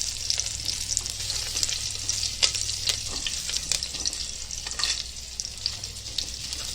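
Chilli, cumin and garam masala sizzle in hot oil for a Konkani masoor amti, a steady close frying hiss broken by sharp stirring scrapes and clinks, with no talking.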